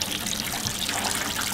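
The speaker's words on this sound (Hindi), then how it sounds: "तो जिमी का पानी वानी पीना हो गया डन" A dog laps water, likely from a person's hand, making a steady wet splashing and trickling sound up close with no talking.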